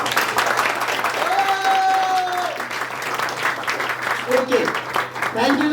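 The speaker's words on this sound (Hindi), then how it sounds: "ये तालियां हैं" Audience applause at an awards and recognition event, a dense crowd clapping steadily throughout with some tonal sounds mixed in.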